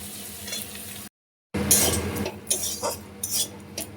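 Leftover rice fries in a pan with peas, cracked egg, turmeric, salt and green chili. It sizzles steadily while a utensil scrapes and clinks as it is stirred, broken by a brief silent gap.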